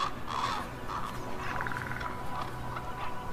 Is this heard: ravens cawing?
yes